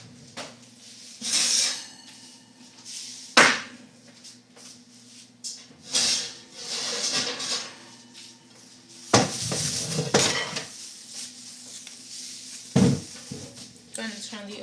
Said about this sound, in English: let me take one of the pots down